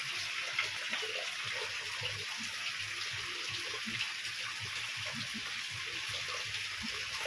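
Boiled water pours steadily into a container for coffee on a rural farm in the province, making a continuous close hiss and splash with no talk throughout.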